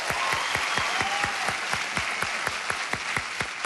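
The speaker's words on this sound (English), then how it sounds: "Give them a round of applause." A studio audience on the 1987 Card Sharks game show applauds, a full steady roar of clapping with a regular beat of rhythmic accents running through it, alone and fairly loud.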